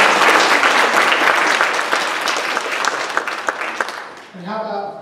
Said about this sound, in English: a round of applause for his great job?